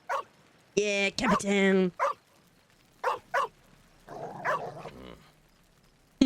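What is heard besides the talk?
dog barking in a video game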